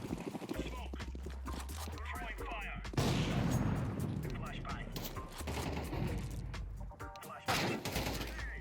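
Counter-Strike gunshots in rapid bursts of crisp pops mixed with other game sounds, set under steady commentary from someone talking throughout.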